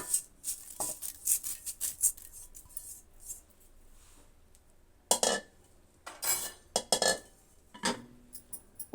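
Homemade flaxseed chutney powder goes into a jar: a run of light metallic clinks and scrapes of a spoon against the container, then a quiet pause and a few louder clatters and taps, close by with no talking.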